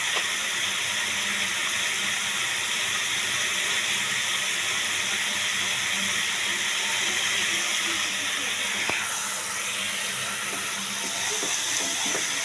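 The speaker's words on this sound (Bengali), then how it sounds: "হাতটা তেল তেল হয়ে গেল হাতে ধুয়ে নিই" Tap water runs steadily into a kitchen sink while oily hands are rinsed after cooking, a continuous close hiss with a faint knock partway through.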